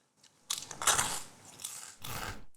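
Crunchy bites into Malaysian rojak, a spicy fruit salad with crisp dough sticks, heard close up as a few loud chewing crunches in quick succession with brief pauses between.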